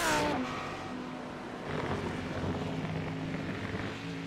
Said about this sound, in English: Really doesn't make a lot of noise, this Mercedes, does it?